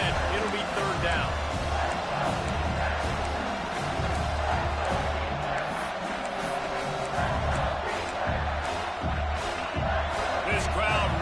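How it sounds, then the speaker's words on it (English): Football stadium crowd at an Arkansas at South Carolina game rising into a loud, sustained roar and cheering, a dense wall of voices filling the whole stretch with no letup. "This crowd rising up, sensing that its defense needs some help."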